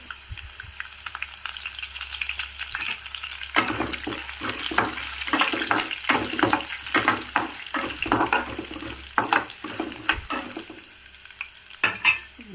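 Cumin seeds and curry leaves crackle and sizzle in hot oil in a pan, with a steady frying hiss broken by sharp irregular pops and spits that rise to several loud bursts near the end.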